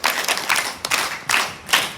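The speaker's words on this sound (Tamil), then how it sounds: "சும்மா கைதட்டுங்க." An audience claps their hands in several uneven bursts of applause, close and fairly loud, with no speech over it.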